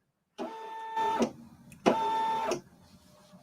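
An embroidery machine in the hoop, stitching a zipper onto a denim pouch, runs in two close bursts of whirring motor hum with tonal whine, a brief pause between, then stops, leaving faint room noise.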